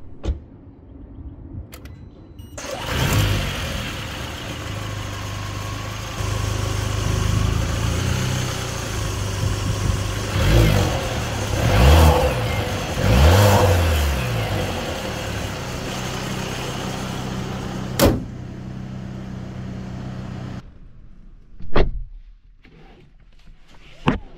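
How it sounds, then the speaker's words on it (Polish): A Mercedes C63 AMG with a 2.0-litre four-cylinder engine idles and is revved several times, loud and close, with sharp throttle blips before it cuts off, followed by a few short clicks. "Pod maską, tak jak mówiłem, mamy 4 cylindry, 2 litry, które tak brzmią."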